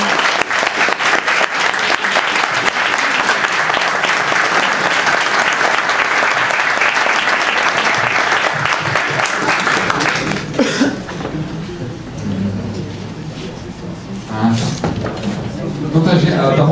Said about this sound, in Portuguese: Vamos uma salva de palmas